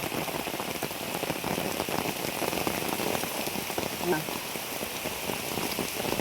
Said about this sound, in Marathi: असाच पाऊस चालू राहिला तर बरोबर आमची वाट लागेल